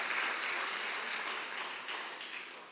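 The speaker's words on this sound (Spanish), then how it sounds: "les damos un aplauso a los hermanos" A church congregation applauds the brethren, a dense wash of hand clapping at moderate volume that tapers slightly over a few seconds, with no speech over it.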